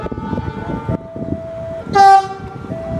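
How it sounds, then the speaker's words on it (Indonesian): An Argo Dwi Pangga passenger train rumbles past with steady clattering, and a loud horn blares briefly midway through, close by. "Kereta api Argo Dwi Pangga sepertinya ini ya."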